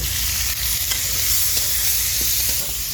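Cauliflower stalks and fish frying in oil with cumin, stirred in a pan: a loud, continuous sizzle with intermittent scraping and clinking from the spoon, no speech.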